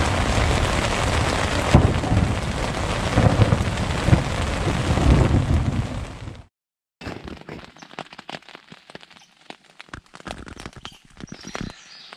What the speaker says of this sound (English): Well, survived the rainstorm.